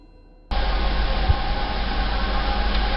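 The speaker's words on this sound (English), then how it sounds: "outside, he kept hearing what sounded like a distant train" A distant train gives a broad, steady roar that starts abruptly and holds at a constant level, heard alone with no voices.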